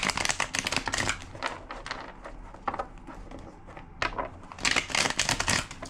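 A deck of cards is shuffled in quick riffling bursts, crisp rapid flutters with a short pause between them.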